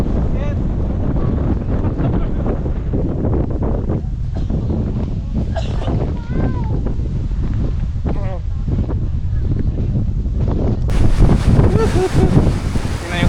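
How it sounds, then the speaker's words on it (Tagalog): Strong gusting wind in the Cordillera mountains during a typhoon's low pressure, roaring as steady broadband rumble against the microphone throughout, with people talking and shouting excitedly over it, and a louder gust near the end. "napakalakas sa hangin guys oh."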